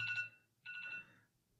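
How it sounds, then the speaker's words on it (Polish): Two short electronic dishwasher timer beeps, each a bright tonal chirp separated by a brief pause, sounding indoors at moderate distance. "Sorry, budzik na zmywarkę."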